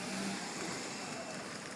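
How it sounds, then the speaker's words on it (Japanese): A car on the road, heard as a faint, steady whooshing rumble with no clear sharp sounds over it. "車来た。"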